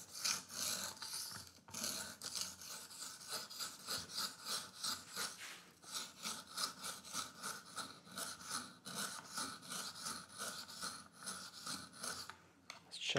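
A fixed blade carry knife drawn across a sharpening stone, rhythmic rasping strokes in a steady back-and-forth pattern, close and fairly quiet, with no talk.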